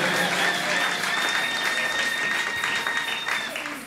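Church congregation at a Sunday worship service applauding and cheering to acclaim the Lord, sustained dense clapping with voices mixed in, steady and loud, tapering slightly at the end.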